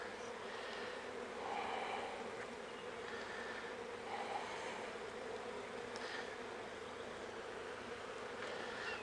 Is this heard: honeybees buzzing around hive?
yes